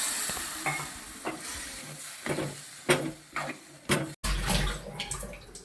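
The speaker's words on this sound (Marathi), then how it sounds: "वाटीभर पाणी वतून घेतोय आणि मस्त ढवळून घेतोय" A utensil scrapes and stirs through a cashew and vegetable curry in a pan after water is added, with a steady sizzle underneath and several sharp knocks against the metal. No one speaks.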